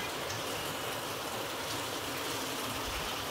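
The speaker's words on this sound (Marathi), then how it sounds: "कसा पाऊस पडतोय बघा भरपूर" Heavy evening rain pours down in a steady, dense hiss that never lets up, close and even, with no voices over it.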